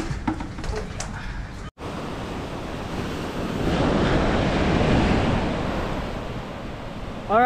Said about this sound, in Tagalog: lalaki ng alon. Bigla na naman ang laki.